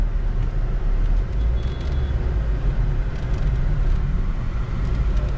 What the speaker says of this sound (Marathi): मी आता या ट्रॅफिकमध्ये अडकलो